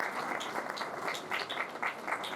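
Audience applause at a book release event in Dewas, India, fairly soft and moderately distant, a steady patter of many hands clapping throughout without talk.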